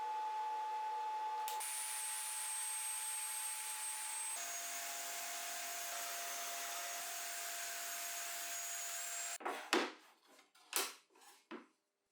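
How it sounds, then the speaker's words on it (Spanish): A table saw fitted with a homemade sliding table cuts wood, a loud steady whine that shifts pitch as the blade loads, then gives way to a few rough rubbing and scraping bursts at the end. "Bloqueo la guía con la medida necesaria y procedo con el corte."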